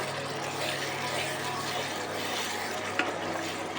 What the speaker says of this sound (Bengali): এটা কিন্তু খুব ভালোভাবে কষিয়ে নেবো পেঁয়াজগুলো